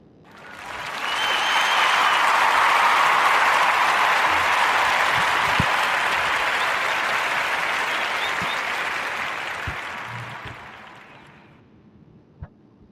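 Warm round of applause from an audience, a steady sustained clapping swell that builds quickly, holds for about ten seconds, then fades out, with no talking over it.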